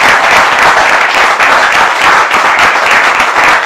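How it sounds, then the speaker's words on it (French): A gathered audience claps loudly and continuously in a close, dense round of applause that holds steady throughout. "une fois de plus, on va applaudir"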